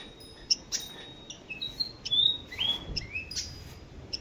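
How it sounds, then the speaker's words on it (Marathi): Small bird calling at a cow shelter, a series of thin high chirps and short whistled notes, close and clear over quiet background. "हा पक्षी गायींचा मित्र असतो"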